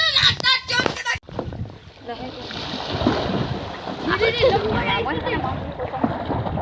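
A small boat rowed across a pond sends up repeated splashes and watery churning against a breezy background, while voices talk and call out nearby.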